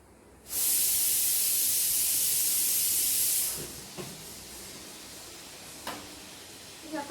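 Pressure cooker in a home kitchen letting off steam, a sudden loud, sharp hiss lasting about three seconds, followed by quiet room noise with a few faint knocks.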